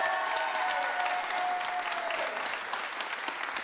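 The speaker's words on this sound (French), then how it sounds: "Applaudissements, s'il vous plaît." An audience applauds steadily and fairly evenly for the whole stretch, a dense wash of many hands clapping, with a faint tone of music sitting underneath early on.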